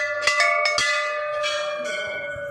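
Hindu temple bell at a Hanuman temple, struck several times in quick succession with a bright metallic ring and sustained overlapping tones, close and loud.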